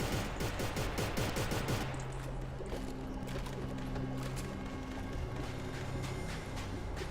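Rapid, dense gunfire from the co-op video game Inversion, bursts crackling loudly for the first two seconds, then continuing as a steady busy clatter under game music and effects.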